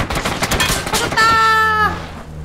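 Rapid bursts of battle royale video game gunfire crackle loudly and close, followed by a sustained high whine, with a voice talking over the shots.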